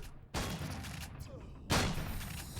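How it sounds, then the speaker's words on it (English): Turret fire in Empyrion Galactic Survival aimed at the player, two loud broadband bursts of shooting, one right after the start and another near the end, with a dense rumbling rattle sustained between them. "My own turrets are shooting at me"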